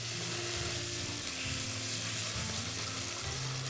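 Food frying in a pan, a continuous dense sizzle held at an even level with no voices over it.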